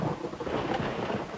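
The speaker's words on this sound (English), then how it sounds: "Lightning's coming around all around." Heavy thunderstorm with lightning and hail on a lake during a fishing tournament, a steady dense roar of rain with low rumbling thunder, loud and continuous with no voices.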